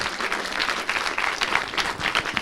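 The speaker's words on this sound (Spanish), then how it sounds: "Aplausos para José, por favor." A studio audience applauds a guest named José on a Mexican TV talk show, a steady wash of many hands clapping close and continuous with no voices over it.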